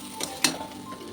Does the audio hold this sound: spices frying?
yes